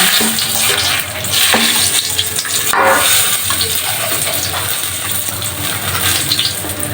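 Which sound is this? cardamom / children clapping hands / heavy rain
cardamom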